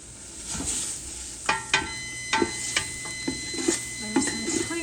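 A roux with cream cheese added sizzles softly in a pan for homemade mac and cheese, while a utensil stirs and knocks against the pan in a series of sharp, irregular taps.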